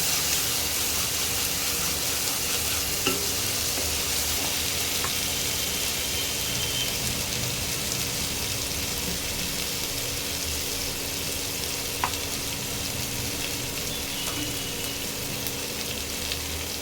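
Ginger and spices fry in oil in a pan with a continuous, even sizzle and hiss that holds steady throughout, close and fairly loud, with a few faint clicks and no talking.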